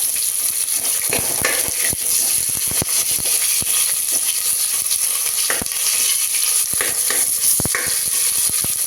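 Sliced onion fries in hot oil with a loud, constant sizzling hiss up close, broken by repeated scraping and clattering stirs of a utensil against the pan.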